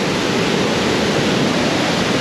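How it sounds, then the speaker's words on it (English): A full waterfall on a hiking trail, 3.3 miles in at 1,482 feet of elevation, roars as a steady, loud, broadband rush of falling water that continues unbroken, with no voices. "we get these full waterfalls to ourselves"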